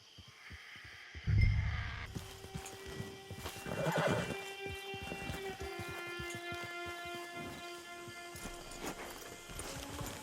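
A horse in Red Dead Redemption 2 gives a loud neigh, then hooves clip-clop at a walking pace under a fainter whinny, close and fairly quiet, with no speech over it.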